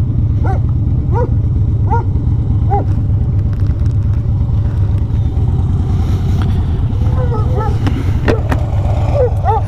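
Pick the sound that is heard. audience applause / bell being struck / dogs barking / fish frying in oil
dogs barking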